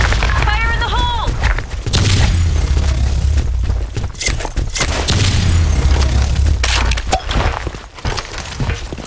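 Grenade explosions and gunfire in the online shooter BlackShot, loud booms and cracking shots filling the whole stretch, with game voice lines over the blasts.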